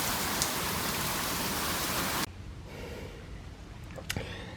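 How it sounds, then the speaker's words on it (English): A heavy rain downpour roars as dense, loud hiss for about two seconds, then drops abruptly to a softer patter of rain with scattered nearby drips and knocks. "Another downpour, another flood."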